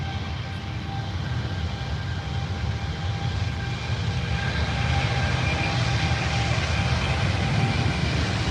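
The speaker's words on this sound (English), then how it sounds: "we've got a Virgin coming out, guys. And you'll hear him fire up soon" Virgin airliner at Heathrow with its jet engine spooling up: a steady, loud broadband roar with a faint whine, holding level and building slightly throughout, no talk over it.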